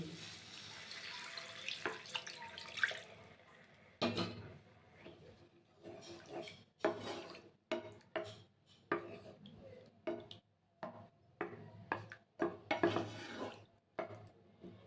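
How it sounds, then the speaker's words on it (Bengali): Water goes into frying mustard masala in a pan for a Bengali pabda fish curry with potatoes, a loud hiss and splash followed by bursts of stirring and clattering against the pan, close by, with no talk. "এবারে এর মধ্যে দিয়ে দিতে হবে পরিমাণ মতন জল"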